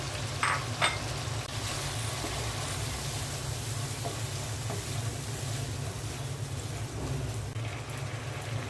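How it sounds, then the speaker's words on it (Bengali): Moong dal is added to a pan of frying spice masala, giving a steady low sizzle and bubbling that holds evenly throughout, close by, with a couple of faint clinks near the start. "মশলাটা কষিয়ে নিলাম এখন মুগের ডালটা দিয়ে দিচ্ছি"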